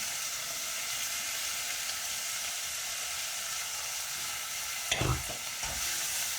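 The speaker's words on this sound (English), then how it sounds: "Let it cook for a while" Food cooking in a pan with added fenugreek, giving a steady close sizzle and hiss throughout, with a short burst of stirring and scraping near the end and no talking.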